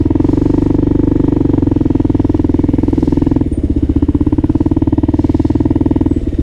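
A Kawasaki KLR 650 single-cylinder motorcycle idles nearby with a loud, steady thumping pulse, the beat briefly shifting in tone midway as the bike is eased into a parking spot on a city street.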